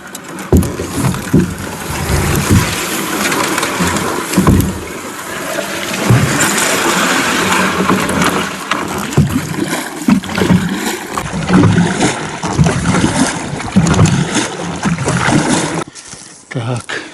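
Small boat on spring-flood water pulling away and moving along, with steady water splashing and paddling or rowing throughout, loud and close, while people talk over it.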